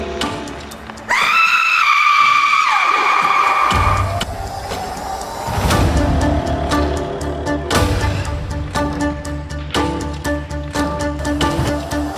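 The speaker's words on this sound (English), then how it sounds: "You hear a gut-wrenching scream." A loud, drawn-out, anguished scream rises over chaotic crashing and rumbling noise, with sharp impacts continuing after the cry fades.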